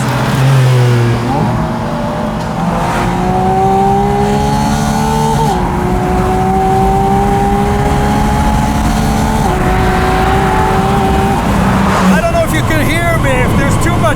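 A Porsche Spyder RS engine revs hard through its 7-speed PDK gearbox, loud and close, with a rising tone, a shift, another climb and a sharp crackle at the end, under someone talking throughout.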